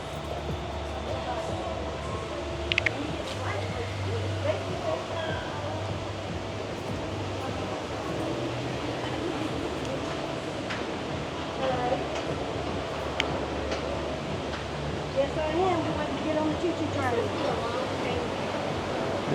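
Slow amusement park train rolling along its track at Six Flags Over Georgia, a steady low rumble with wind and ambient noise throughout and occasional faint clicks, continuous over the whole stretch.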